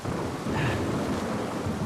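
Rain and thunder in the game Uncharted 4, set in Libertalia: a dense, steady hiss of heavy rainfall with a low rolling rumble beneath it, continuous and fairly loud, with no voices.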